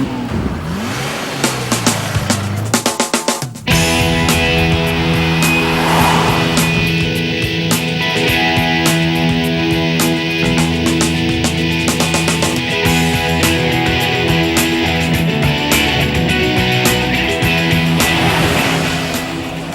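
A black Jaguar E-Type with a V12 engine roars around a racing circuit, a loud sustained engine drone with strong harmonic whine after a sharp start, revving steadily close by with no talk.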